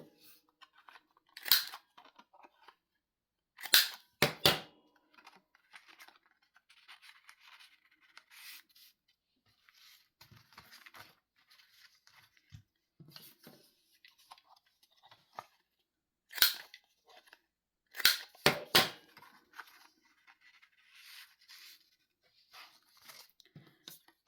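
Several crisp, sharp snips as a corner-rounding cutter trims the corners of a small 3 x 4 cloth-covered notebook, coming in separate short clusters with quiet handling rustle in between.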